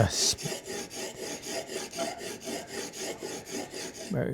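A chisel blade in a wheeled honing guide scrapes back and forth across a sharpening stone, about a dozen even rasping strokes in a steady rhythm, close and moderately quiet with no talking.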